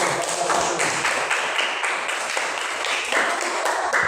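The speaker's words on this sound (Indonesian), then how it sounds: "Yuk, kasih tepuk tangan terlebih dahulu." An audience at a group presentation session claps together, a dense, fairly loud patter of hands that stays steady throughout without any voices over it.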